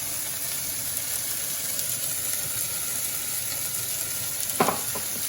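Fennel and fenugreek seeds sizzling in hot oil for a shrimp curry. A continuous gentle frying hiss runs throughout, with a brief clattering scrape near the end.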